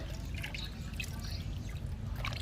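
Washed fish drain as water drips and trickles in a soft, steady patter nearby, with no talk over it.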